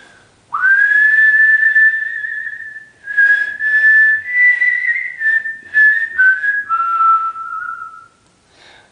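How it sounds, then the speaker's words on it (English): A clear, close whistled melody of sustained notes, with a wavering vibrato on the longer held tones and brief pauses between phrases. "I'm just adding a little bit of vibrato toward the end of some of the longer notes."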